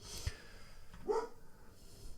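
A grumpy old dog gives a short bark and a whimpering yelp indoors, fairly faint against a quiet room, with no one talking.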